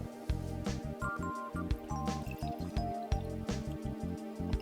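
Dr Pepper mixed with coffee creamer is poured into a glass, giving a close, steady liquid glug and trickle with small splashes and fizzing drips, no talking.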